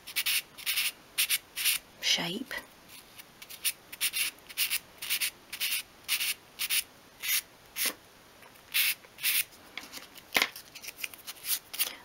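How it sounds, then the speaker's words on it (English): Sandpaper wrapped around a pencil works along the grooves of a 1/12 scale wooden miniature bedside cabinet, making close, steady back-and-forth scratchy strokes in an even rhythm, with a brief spoken word partway through. "And then next take your sandpaper from front to back, and I'll just create a slight chamfer along the pattern there."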